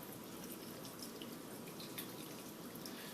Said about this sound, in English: take beef broth, just pour it in until it's covered